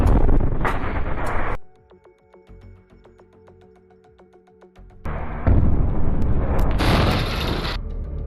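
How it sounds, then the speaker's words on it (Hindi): A rocket launcher blast strikes an IDF Merkava tank, heard as loud broadband roaring bursts that drop into a quieter stretch of faint clicking and tones, then surge back to a sustained heavy rumble. "उसके ऊपर एक रॉकेट लॉन्चर से हमला कर दिया जाता है, जिसमें जोरदार ब्लास्ट होता है"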